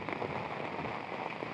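Heavy rain pouring down on a Dhaka street flooded with water, a dense, steady hiss of drops close by with no voices.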